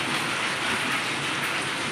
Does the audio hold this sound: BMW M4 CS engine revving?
no